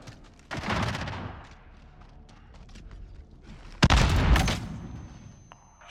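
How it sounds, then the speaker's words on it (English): A cruise missile strike in the multiplayer beta of Call of Duty: Modern Warfare, heard as a sharp crack followed by a heavy, roaring blast with a long rumbling tail, mixed with scattered gunfire and earlier booming bursts. "Allied cruise missile away."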